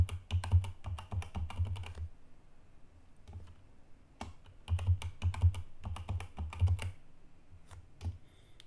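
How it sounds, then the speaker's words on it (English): Computer keyboard keys clatter in two quick bursts of rapid typing while a username and password are entered, separated by a short pause, with a few stray clicks near the end; close and clear, no voices. "I have to put the that my username and password"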